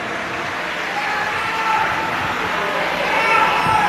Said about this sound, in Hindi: देवीदास जी की, ये जितनी भी मालेगांव की टीम है देवीदास जी की, एक बार इनके लिए जोरदार ताली बजाओ।